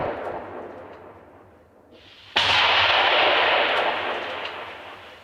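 Mortar and RPG strikes in combat near a Ukrainian front line, with a sudden loud blast followed by a long rumbling roar that slowly fades, close and powerful, no voices.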